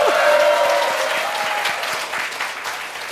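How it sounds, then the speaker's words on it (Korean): Audience applause for lawmaker Jang Dong-hyuk at an emergency policy forum, a dense wash of many hands clapping that starts loud and slowly thins over a few seconds, with a faint voice at the very start. "크게 박수 한번 보내주시죠."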